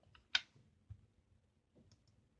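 A few isolated keystrokes on a computer keyboard while a PLC command is entered: sparse, crisp clicks with one sharper tap, close and quiet against a faint room hum.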